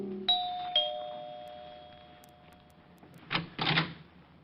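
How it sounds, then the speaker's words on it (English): An apartment doorbell at a Park Avenue building rings a clear two-note chime that lingers and fades, followed a few seconds later by brief clattering handling noises. "rang the bell to Helen's apartment"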